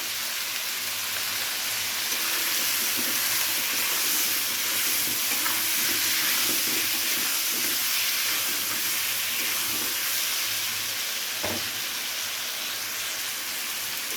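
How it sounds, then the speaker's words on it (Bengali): Potato pieces frying in a pan with salt and turmeric for a fish head curry give off a steady, continuous sizzle and hiss, with a brief sharper crackle near the end. "আলুগুলো ভাজার জন্য দিয়ে দিচ্ছি একটু নুন আর একটু হলুদ"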